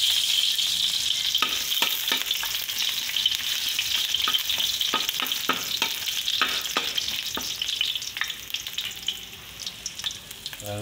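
Garlic sizzles loudly and continuously in hot cooking oil in a pan, with sharp crackles and pops scattered through the frying and no one talking.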